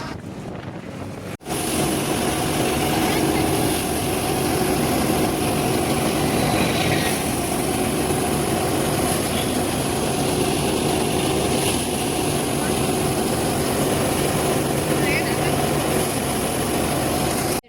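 A tractor engine drones steadily and loudly for a long stretch out in the fields, mixed with strong wind buffeting, with no speech over it.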